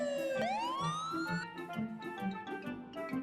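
A small ambulance in the Avatar World video game sounds its siren. A rising electronic wail sweeps upward, then settles into a repeating tonal pattern, moderately quiet and heard alone without voices.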